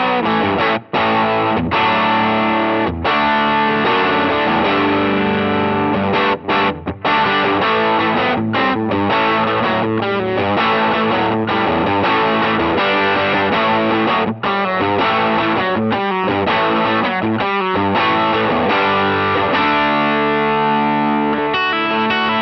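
Overdriven electric guitar through a Helix modeler's Grammatico amp model with a FET boost, playing sustained distorted chords continuously and loudly with a thick, saturated tone and no talking.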